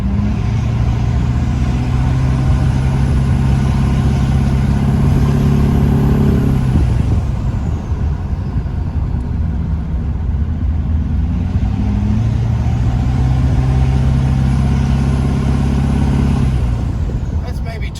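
An LB7 Duramax diesel truck engine runs loud and close, with a sustained rev that rises and falls twice and a turbo spooling up with a high whine; no talk over it.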